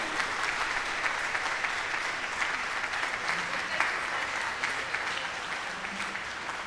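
A full room at the Kentucky Bourbon Hall of Fame induction ceremony gives sustained standing applause, dense and even throughout without a break, with faint voices underneath.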